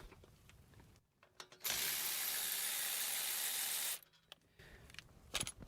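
A ratchet working on the rear axle bolts of a 2001-2005 Dodge Grand Caravan AWD gives a loud, continuous, rasping whir for about two seconds, with softer mechanical clicks and clatter before and after.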